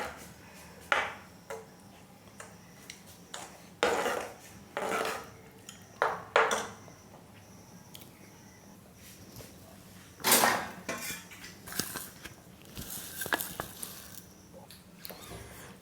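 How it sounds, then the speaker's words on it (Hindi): A spoon stirs a thick mango mixture for laddus in a pan over a medium flame, giving irregular scraping clatters and clinks in short bursts against a low steady background. "और इसको इस तरह से चलाते रहेंगे।"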